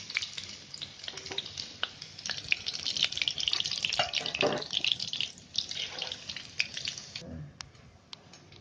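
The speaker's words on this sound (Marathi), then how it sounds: "याचे गोळे आहेत ना आपले कडक फ्राय करून घ्यायचे" Chicken kofta balls deep-fry in hot oil, giving a steady, fairly quiet crackle dotted with sharp pops and spits throughout.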